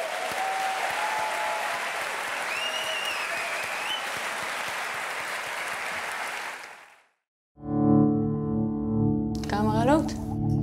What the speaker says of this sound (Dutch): Dus ik hoop dat we allemaal een applaus kunnen geven aan Clarice.